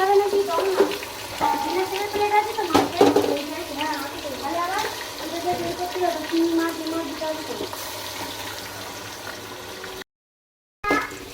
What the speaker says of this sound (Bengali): মা এদিকে ভাজছে পিলুই